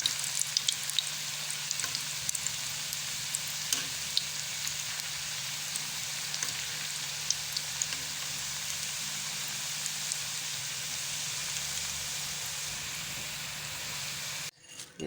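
Gulab jamun frying in hot oil as they brown, a steady dense sizzle and crackle holding evenly throughout with no voices, cutting off abruptly just before the end.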